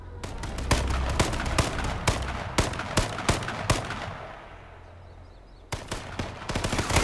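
Rapid bursts of gunfire in the survival shooter H1Z1, a dense string of sharp loud cracks that pauses briefly and then resumes with more scattered shots.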